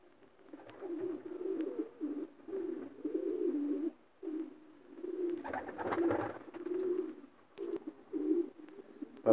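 A fifteen-year-old male racing pigeon coos close by in a loft, giving repeated low throaty rolling calls in bursts separated by short pauses.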